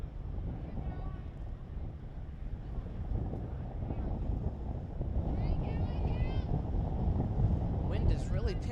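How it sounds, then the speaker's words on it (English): Strong wind buffets the microphone at a girls' varsity softball field, a continuous low rumbling roar that builds gradually, with voices faintly audible beneath it. "Wind is really picking up here."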